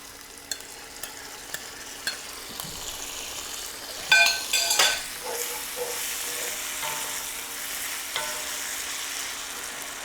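Tomatillos dropped into a pan of gently sautéing garlic, a soft sizzle that rises in a burst of louder spattering and stirring as they land, then settles into a steady fry with occasional clinks.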